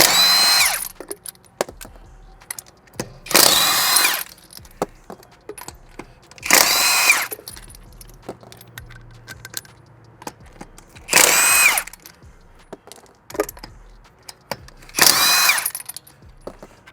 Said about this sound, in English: Grab our handy dandy Hercules brushless Ultra Torque 1/2-inch impact.